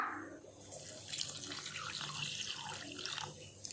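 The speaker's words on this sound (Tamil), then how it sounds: "இப்போ இதில் தண்ணி சேர்த்துக்கலாம்" Water runs and splashes steadily into rava dosa batter nearby for a few seconds, with a light trickling texture.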